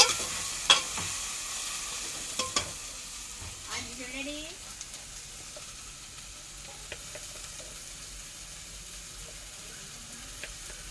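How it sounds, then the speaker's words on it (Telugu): Onions, okra and tomatoes fry in a pan for a prawn and okra curry, a soft steady sizzle with a few clinks and stirring scrapes early on, faint in the background with no talking. "ఉల్లిపాయలు బాగా వేగే వరకు వేపుకోవాలి ఫ్రెండ్స్. బెండకాయలు టమాటాలు వేసుకుంటున్నాను ఫ్రెండ్స్"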